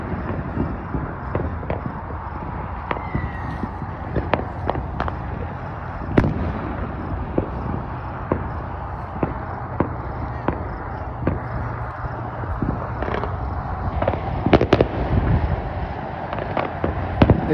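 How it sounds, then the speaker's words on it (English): A Fourth of July night fills with many distant fireworks shows spread across the horizon, a steady rumbling wash punctuated by scattered sharp pops and booms, with occasional voices faintly underneath. "It doesn't do justice to how many fireworks shows there are."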